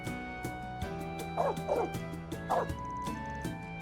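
A dog in the video game Kai no Kiseki gives three short, bright barks and yips over steady background game music.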